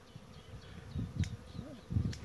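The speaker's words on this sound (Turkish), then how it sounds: "Her taraf arı dolu" Bees buzzing around pomegranate blossoms in a garden as they gather pollen, a soft, faint hum that swells in a few short bursts, with no talking.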